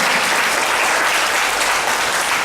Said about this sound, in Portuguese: Dê uma forte salva de palmas ao Senhor Jesus.